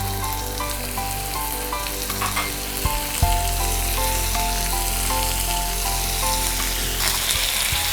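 Small chicken pieces for chicken chukka are sautéed and mixed in a pan, giving a loud, steady sizzle and frying crackle with a few utensil knocks as the pieces are stirred, heard close and with no talking.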